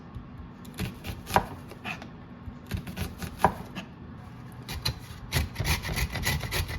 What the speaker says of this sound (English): not chop these, but slice these thinly